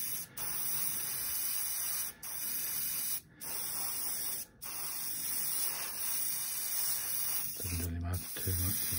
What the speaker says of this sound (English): I'll just give the musket a quick spray.